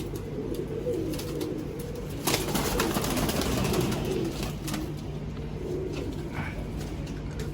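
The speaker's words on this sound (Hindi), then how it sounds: "बड़े साइज के कबूतर हैं।" Large old Indian breed pigeons coo in a loft, with soft, repeated throaty coos over a steady background hum, plus a brief rustle or flutter partway through.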